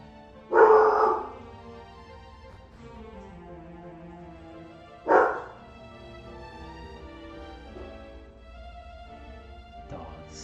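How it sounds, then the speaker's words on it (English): Dogs in Dragon Quest 7 bark in two sharp, close bursts a few seconds apart, followed by softer yips, over a quiet background of game music. "Dogs."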